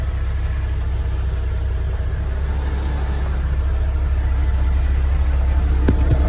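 Ford L9000 truck engine idling and rumbling steadily as it drives around a garage, a loud, low, continuous drone with no talk.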